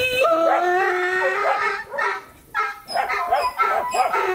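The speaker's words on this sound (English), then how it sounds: "Dogs." Several dogs on a farm bark and howl together, loud and close, in overlapping yelps, whines and drawn-out howls that rise and fall without a break.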